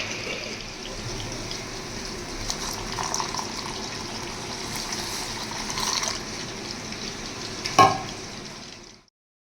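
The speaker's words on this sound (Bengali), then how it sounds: "এখানে পাবদা মাছ ভাজা চলছে" Pabda fish frying in a pan in a home kitchen, a steady close sizzle with soft crackling throughout, a brief louder clatter near the end, then silence.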